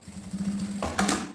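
Sewing machine stitching folded fabric edges while making a cube-shaped zippered pouch; a steady rapid mechanical whir of the needle running close, with a brief louder burst near the end.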